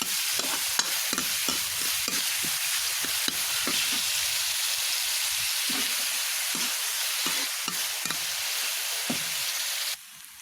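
Chopped onion, garlic and other ingredients fry in a pan over cumin, a continuous loud sizzle broken by repeated scraping stirs and clinks at an uneven rhythm, ending abruptly near the close.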